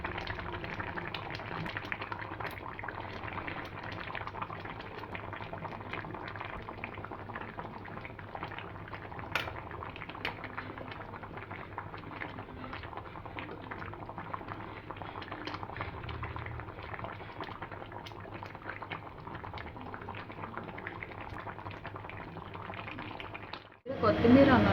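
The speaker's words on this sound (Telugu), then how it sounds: "చేప ముక్కలు బాగా ఉడుకుతున్నాయి కదండి" Andhra-style vanjaram fish pieces bubbling in a pot of spicy raw-mango curry, a steady close boiling burble with occasional light clinks, under intermittent talk, ending with a louder clatter.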